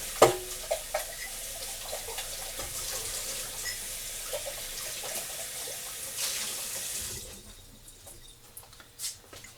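Water pours from a pitcher into canning jars, a faint continuous splashing trickle with a few small clinks at the start, tapering to quieter drips near the end.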